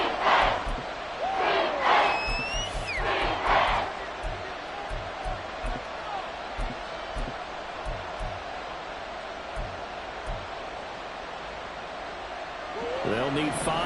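Football stadium crowd at a Commanders vs Cardinals game roaring in loud bursts at the start, then settling into a sustained rumble of hubbub before swelling again at the end, with an announcer speaking over it.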